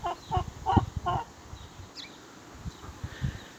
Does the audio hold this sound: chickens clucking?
yes